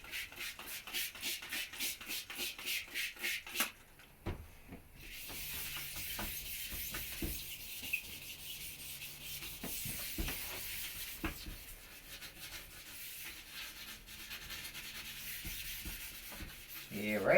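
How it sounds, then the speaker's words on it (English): Sandpaper is rubbed against plastic in steady back-and-forth strokes: rapid rhythmic rasping at first, then a longer, smoother continuous scrubbing hiss, close up and without speech. "I'm going to sand up to it."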